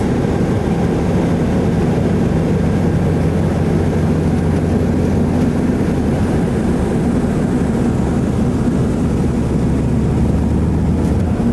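A passenger airplane coming in to land gives a loud, steady engine roar and rushing drone throughout, close and continuous without any distinct touchdown thump.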